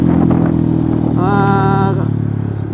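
A custom Yamaha WR 155 motorcycle engine droning loudly at steady speed with a rising whine partway through as it pulls through the gears, close and continuous, with a voice faintly underneath.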